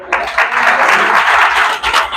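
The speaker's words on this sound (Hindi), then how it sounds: "जोरदार तालियां।" A church congregation bursts into loud applause, a dense crackle of many hands clapping close by for a couple of seconds before briefly tapering.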